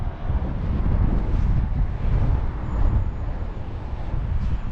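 Strong wind at a Scottish hilltop castle viewpoint buffets the microphone with a heavy, rumbling roar that rises and falls in gusts throughout.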